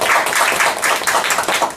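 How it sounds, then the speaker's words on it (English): An audience at a Toastmasters meeting breaks into brisk, continuous applause, many hands clapping together in a close, even roar with no voices over it. "Please give Toastmaster J a big round of applause"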